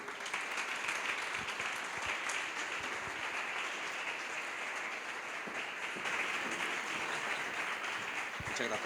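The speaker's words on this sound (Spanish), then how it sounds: "pido que le recibamos con un aplauso" A conference audience applauds as a speaker on flamenco is welcomed; the steady, moderately loud clapping continues evenly throughout with no voices over it.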